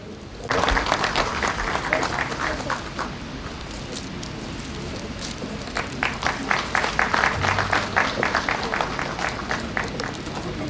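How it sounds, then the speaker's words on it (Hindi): Sustained audience applause at a Hindi book launch, dense and loud from the start, dipping slightly mid-way and then swelling again into stronger, crisper clapping. "तालियां जोरदार बजनी चाहिए।"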